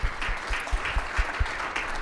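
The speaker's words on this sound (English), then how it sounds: "Yes, a round of applause." Audience applause at a summit plenary session, a steady crowd of hands clapping with a few louder rhythmic thumps, moderately distant and fading slightly.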